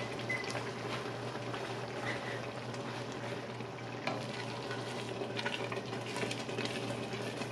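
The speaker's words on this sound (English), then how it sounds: "I can't stir down this boil. It is boiling." Caramel apple coffee jam at a full rolling boil in a pot, a faint, steady bubbling and sputtering with occasional soft spoon stirs, quiet and continuous.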